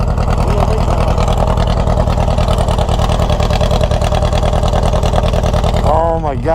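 Old VW-engined trike roaring steadily at close range, a continuous loud engine drone with a pitch sweep near the end as it revs during a wheelie; voices are faintly present.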